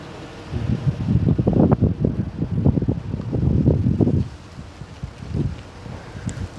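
Strong winter storm wind buffets the microphone outside a house, a loud, rough rumble of gusts that swells and then eases toward the end.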